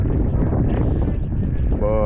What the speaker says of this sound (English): The breeze is blowing very hard.